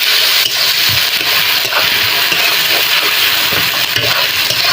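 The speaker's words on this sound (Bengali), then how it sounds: "মশলাগুলি ভালো করে ভেজে নেবো" Ground spices, including cumin paste, fry in a hot pan with a steady close sizzling hiss and faint stirring scrapes, continuous throughout with no talk.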